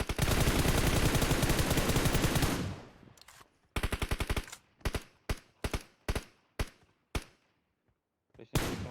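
Gunfire in PUBG Mobile: a dense, loud sustained automatic burst for nearly three seconds, then short sharp rounds fired at irregular intervals, close and alone.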